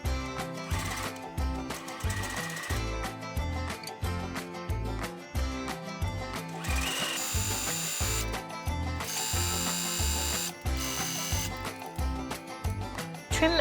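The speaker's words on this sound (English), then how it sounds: "Sew around the shoulder ties, pivoting the needle at the point" A sewing machine stitches around the shoulder ties of a tiered cottagecore dress with a rapid, rhythmic mechanical clatter in bursts. Short pauses come between runs as the needle pivots at the points, and louder whirring stretches come in between.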